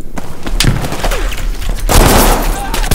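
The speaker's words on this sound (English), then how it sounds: "I'm throwing a grenade." In Battlefield V, a loud burst of gunfire and a grenade blast crack through the battle, with short sharp reports and a heavy boom midway, while voices speak over the action.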